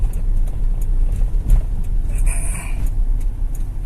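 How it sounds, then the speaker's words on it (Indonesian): A Toyota Innova petrol engine idles at a steady speed of about 800 rpm with its throttle untouched, giving a constant low rumbling drone close by with no talk over it. "Karena ini nggak diinjak ya RPM-nya cuma ini stabil, stasioner ya"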